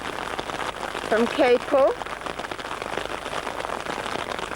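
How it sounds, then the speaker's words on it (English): Heavy rain pours steadily on an outdoor running route, a constant hiss filling the whole stretch, while people talk over it nearby. "It is pouring with rain and it is freezing cold."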